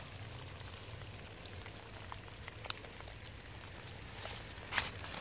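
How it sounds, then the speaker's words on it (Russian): Steady rain patters on surfaces behind workshop buildings at an old military repair base, a soft continuous hiss with scattered drips and a few sharper taps near the end. "Дождь."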